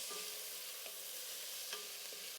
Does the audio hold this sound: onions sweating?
yes